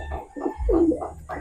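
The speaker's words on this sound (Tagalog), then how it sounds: "Ito mga kalapatids, so." Racing pigeons coo close by, a few soft throaty rolling calls in short bursts, one smoother drawn-out coo in the middle.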